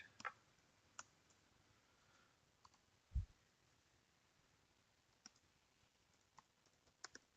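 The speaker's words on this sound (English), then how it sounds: "I can type here," Sparse, faint clicks from a computer keyboard, a handful of isolated keystrokes spread out with a single louder tap in the middle, over a quiet background.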